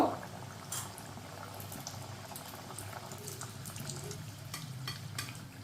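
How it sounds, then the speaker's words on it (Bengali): Khaja pastry deep frying in hot oil, with a steady bubbling sizzle and scattered crackling bursts as oil is splashed over the top, close and continuous without speech. "এইরকম তেল ছিটিয়ে ছিটিয়ে সবগুলোকে ভেজে নেব"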